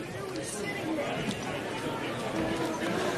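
A big crowd chatters on the terrace at the 2021 Citizens Shield rugby final, Valley versus Kurow, a steady, fairly close babble of many voices under a commentator talking.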